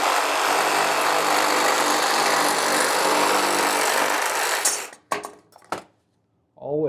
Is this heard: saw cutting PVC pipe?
yes